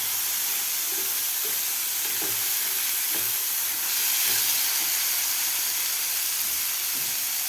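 Soaked dal sautés in spice masala in a pan, giving a strong, even sizzling hiss with faint spoon scrapes and taps recurring underneath; no one speaks.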